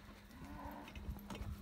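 A cow moos during hand milking on a homestead in the early morning, a low drawn-out call that rises briefly and fades, heard fairly close with faint barn noise around it.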